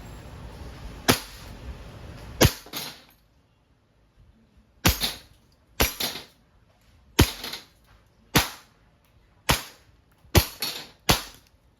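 A WE Hi-Capa 5.1R airsoft pistol fires semi-auto, giving about ten sharp, loud cracks spaced irregularly one at a time, some with a brief mechanical rattle after, and no voices.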